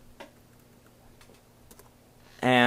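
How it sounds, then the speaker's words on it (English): A handful of sparse, quiet key taps on a computer keyboard over a low electrical hum while a password is entered, ending in a sudden loud startup chime. "type in my password here"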